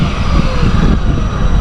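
A Traxxas 4TEC VXL RC car speeds past outdoors in a headwind, its motor a loud, close, steady whine with heavy wind rumble.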